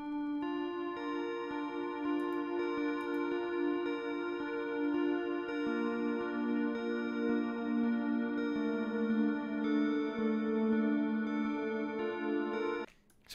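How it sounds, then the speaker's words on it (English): Soft plucked sine synth tones repeat in a steady arpeggio, washed in long reverb, sustained and atmospheric throughout before cutting off at the end. "I have these little sine pluck arpeggios."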